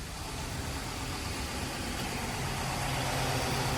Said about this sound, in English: Down here is a view of the main engine.